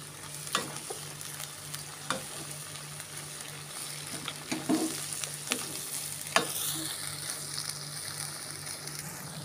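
Cap cay vegetables are stirred in a pan, a soft continuous sizzle broken by periodic clacks and scrapes of the spatula, close and moderately quiet, no talking.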